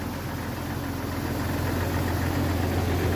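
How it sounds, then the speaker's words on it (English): A Jeep Cherokee engine idles steadily with no misfire, a low even rumble with a faint rhythmic knock, close and continuous for a few seconds, with no talking. "No misfire. Smooth idle."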